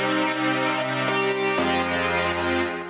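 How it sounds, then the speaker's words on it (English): Sustained chords from the Omnisphere Power Pop Poly Comp synth preset, a bright, dense, compressed polyphonic pad changing chord twice in under three seconds, loud and steady with no talking. "which is the Power Pop Poly Comp preset from Omnisphere, which sounds like this."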